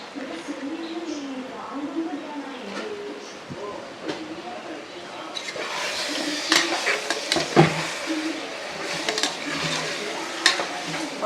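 Chicken stirred and frying in a pan of biryani, soft sizzling with scraping and clinking of a spoon against the pot, growing busier midway, with voices talking over it.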